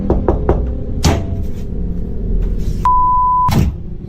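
A few quick raps on a bedroom door at night land close and sharp in a short cluster, followed by isolated louder thuds and a steady electronic beep partway through.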